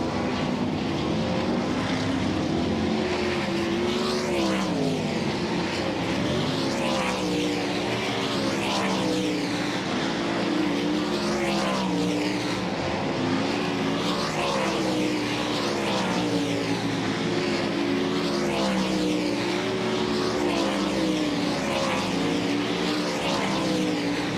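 Race cars lapping during practice at Volusia Speedway Park, a dirt oval, during Bike Week: a steady, continuous roar of several engines droning and swelling as they circle, loud and unbroken throughout.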